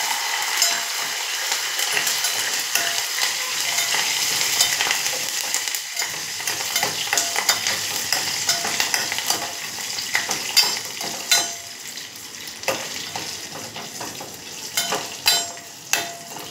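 Tempering spices sizzle and crackle in a pan while a spoon stirs them, with close, steady frying broken by sharper utensil clinks and scrapes toward the end.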